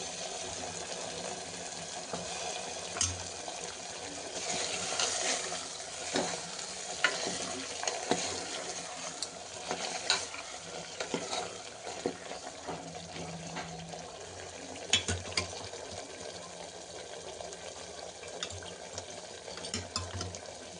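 Potatoes fry in hot oil in a pan for a homestyle eggplant and potato bhaji. A steady sizzle is broken by repeated scraping and clattering stirs of a spoon.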